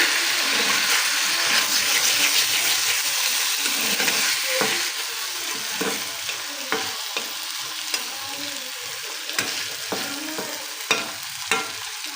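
Potato filling for singara frying in a pan, a steady close sizzle broken by repeated scraping stirs, with no talking.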